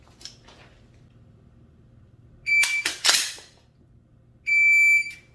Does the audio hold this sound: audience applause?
no